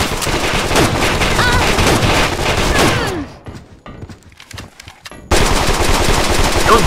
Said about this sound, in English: Those bastards got some bigger guns.